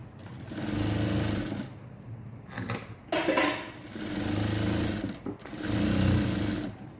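A sewing machine stitches along a blouse neckline being narrowed on a ready-made top, running in steady bursts with brief pauses and a short handling break in the middle, close and fairly loud.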